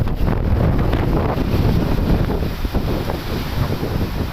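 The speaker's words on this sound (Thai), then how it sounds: "พายุมาหนักเลย ต้องลมต้องฝนเลยครับ" Strong, steady storm wind roars and buffets the microphone throughout in Trang, Thailand, with a dense broadband rush of heavy rain mixed in.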